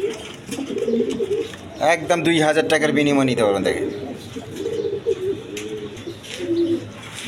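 A pair of King pigeons, male and female, coo in low, throaty rolling calls close by, while someone talks over them.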